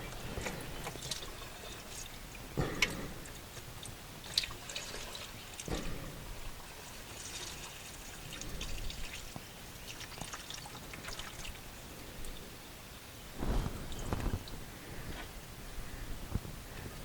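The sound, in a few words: transmission fluid dripping from VW Touareg pan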